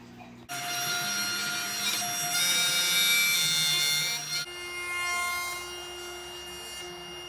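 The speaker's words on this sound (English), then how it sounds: "You will need a router bit with a bearing on it, as I'm showing here." A router fitted with a bearing-guided bit cuts wood, the bearing riding along the edge of a shop-made jig; a loud, steady high-pitched motor whine with shifting cutting noise runs nearly the whole time, changing pitch briefly before continuing.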